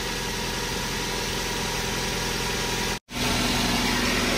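A Toyota Avanza engine idles steadily after an engine rebuild with cylinder head work, a loud, even mechanical drone heard close up. It cuts out for a split second midway, then resumes unchanged.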